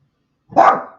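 A single bark from a dog in the background, one short, moderately loud bark after a moment of silence, with no voices.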